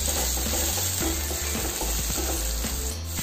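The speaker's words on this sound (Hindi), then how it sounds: "इसको सिर्फ 2 मिनट के लिए अपनी वेजीज को हमें हल्का सा सॉफ्ट करना है।" Vegetables sautéing in a kadhai for masala Maggi sizzle loudly and steadily, with quick rattling stirs and a low rumbling hum underneath, and no talking.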